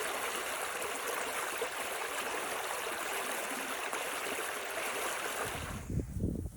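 A river pouring into a pond through a small waterfall in the Kharkiv district in winter gives a steady, close broadband rush of flowing water. Near the end the rush falls away and leaves a few low rumbles.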